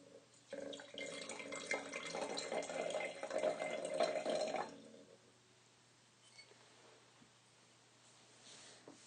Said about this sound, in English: let's start by listening to the sound of the wine as it pours into the glass.